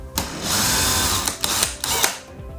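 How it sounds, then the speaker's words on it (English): A power drill drives screws into wood blocking fixed to a ceiling. The motor whirs loudly and close, with a few brief dips and restarts as the screw goes in. "and drill it in"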